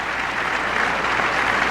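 A crowd at the 1994 World Figure Skating Championships applauds an ice dance free dance with dense, sustained clapping, loud and steady throughout with no voices on top.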